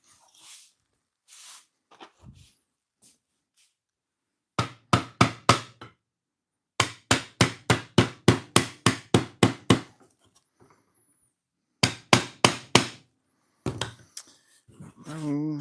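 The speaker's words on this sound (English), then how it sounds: "I'll get my other hammer." Someone assembling furniture alone at home strikes with a hammer in quick bursts of sharp, loud blows, one group of four and a longer run of about ten, separated by pauses with faint rustling and a brief voice near the end.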